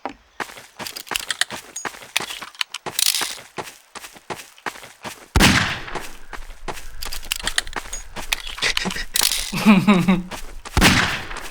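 Sharp bursts of gunfire crack in quick irregular volleys in the video game Garry's Mod, with scuffing movement between the shots.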